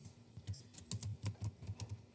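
Quiet typing on a computer keyboard, soft irregular key clicks in small clusters with brief pauses between them, faint and close, with no voices.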